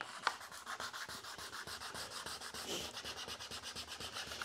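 A paramotor propeller is sanded by hand with 150 grit sandpaper, a steady rhythmic back-and-forth rasping of many even strokes, close and fairly quiet with no talk.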